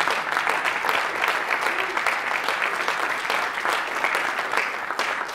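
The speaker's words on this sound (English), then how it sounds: "Give yourselves a round of applause" An audience at a conference keynote applauds itself, a thick, continuous roar of clapping at a steady level with no gaps, heard from within the room.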